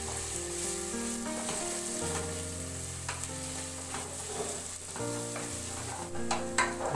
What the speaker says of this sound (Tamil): இஞ்சி பூண்டு நல்லா அடி பிடிக்காமல் நல்லா கிளறி விட்டு போயிருங்க